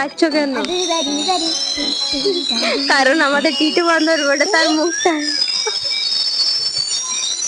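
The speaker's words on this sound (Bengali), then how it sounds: "কত গাড়ি চলছে train train train train train" A train passing nearby rumbles and squeals with high metallic wheel screech and clatter, while voices talk loudly over it throughout.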